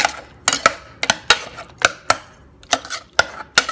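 A ladle mashes cooked moong dal in a pot with sharp, rhythmic metallic knocks, about two per second, close and distinct against a quiet background.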